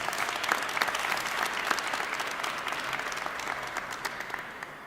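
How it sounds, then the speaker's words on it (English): An audience at a Cleveland civic funding announcement applauds steadily, with dense clapping from many hands held at an even level throughout before it starts to thin slightly at the end. "Give yourself a round of applause."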